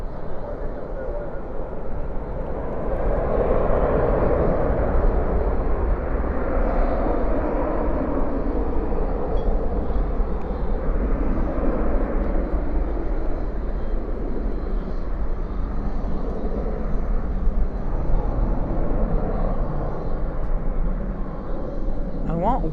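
A Boeing 737 landing at night at Dallas Fort Worth airport with spoilers up and thrust reversers deployed, giving a loud, steady broadband roar that holds for the whole stretch.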